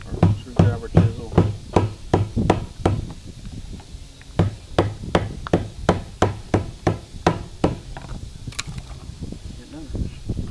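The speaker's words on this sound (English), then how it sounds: "And a bigger flat chisel, hammer chisel, or screwdriver chisel." A hammer drives a flat chisel to free clamps while removing the gas tank from a 1995 Dodge Ram, a run of sharp metallic strikes in steady bursts with a short pause, close and loud, with brief talk.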